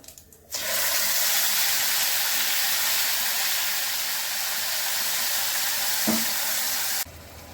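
A spice paste of onion, tomato and garlic hits a hot pan and sizzles loudly and steadily, with a brief stir clink near the end before the frying cuts off.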